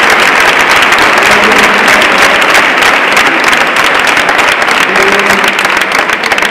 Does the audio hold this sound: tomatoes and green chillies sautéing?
no